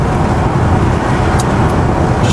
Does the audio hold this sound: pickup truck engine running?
yes